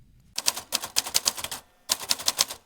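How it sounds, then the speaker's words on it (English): A vintage typewriter is typed on at close range, crisp rapid key strikes in two bursts separated by a brief pause, with no voices over the clacking. "We type poems on vintage typewriters on whatever strikes your fancy."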